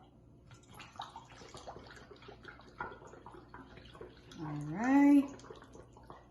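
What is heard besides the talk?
water poured through a funnel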